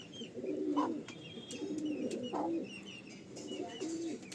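Andhra pigeons coo in a soft, throaty rhythm, three separate calls rising at regular intervals over a faint chirping background.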